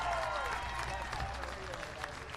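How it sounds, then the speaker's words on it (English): Broadband crowd noise with a steady wash of clapping, loud and continuous throughout, resembling applause from a large audience at a semi-truck race on high-banked oval track. "Let's give Brian Bear a round of applause"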